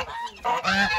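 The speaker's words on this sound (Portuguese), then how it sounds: "Estão tratando aqui dos gansos." Geese on a farm honk loudly and close by in a quick burst of nasal, overlapping calls, with no voices.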